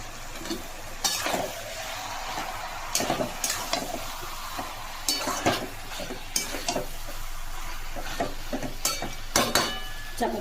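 Spices and Kashmiri chili powder sauté in a pan being pressed and stirred, a low sizzle broken by repeated sharp scrapes and clinks of a spatula against metal, close and busy, with no talk.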